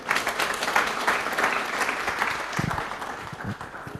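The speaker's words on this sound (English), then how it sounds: "Let's again clap for our beloved Vice-Chancellor." A university audience at Mbarara University of Science and Technology applauds the Vice-Chancellor with steady, dense clapping that runs through the whole moment without a break.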